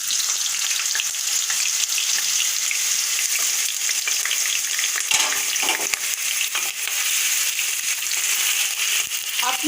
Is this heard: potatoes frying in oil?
yes